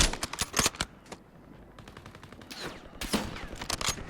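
Gunfire in the shooter game Call of Duty Warzone: rapid automatic bursts crackle in clusters, with a pause in the middle before more rattling volleys at moderate distance.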